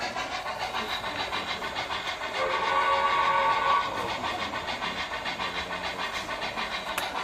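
An MTH model train engine started up and running at a set speed, giving a steady rhythmic chuffing with a hiss that swells in the middle, alone and close.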